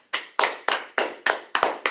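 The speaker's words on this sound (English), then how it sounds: "Man, clap it up for that." A single pair of hands claps seven times in a steady, even rhythm, each clap sharp and close with a short ringing tail, alone without voices.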